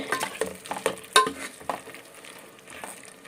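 Tomatoes softening in a hot pan for rasam, with crisp sizzling broken by several sharp scrapes and clinks of a spoon stirring against the pan, busier at first and calmer toward the end.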